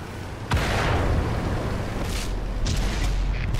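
A tank cannon fires in World of Tanks on PS4 from a TVP T 50/51, a sudden loud boom that rolls into a long, dense rumble, with a couple of fainter distant shots after it.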